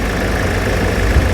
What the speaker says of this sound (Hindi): तो कुछ ऐसा आपको स्कॉर्पियो का एमहॉक इंजन मिलता है।